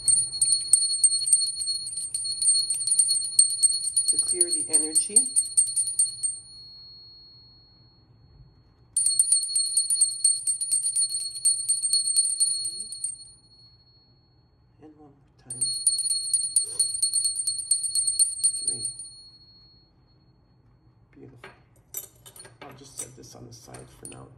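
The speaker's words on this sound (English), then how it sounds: "I'm gonna take out my bell" A hand bell is rung in three bright, shimmering bursts, each ringing for several seconds before fading, with someone speaking softly between the rings and louder talk at the end.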